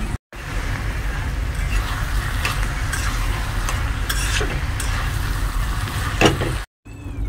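Spices such as garlic-ginger paste, red chili powder, cumin, black pepper and coriander powder are stirred into a frying mushroom curry, producing a steady loud sizzle with spoon scraping and stirring taps, close up and without talk, ending in a brief cut.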